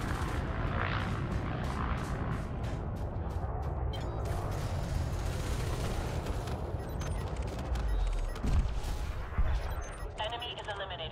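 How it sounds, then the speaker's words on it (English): Rapid multi-cannon fire hammers a ship's hull in a space-combat video game, a sustained, dense stream of impacts and booms with a heavier crash late on, loud throughout. "the sound of my multi-cannons shotgunning your hull"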